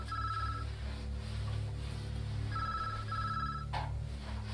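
Phone ringing in the FMV video game Deluded, a steady electronic ring repeating in bursts over a constant low hum, moderately faint with no talk.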